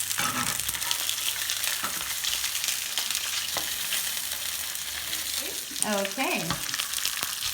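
Salmon fillet frying in its own rendered fat in a pan, a continuous close sizzle with occasional spoon or spatula scrapes, and a voice speaking briefly over it near the end.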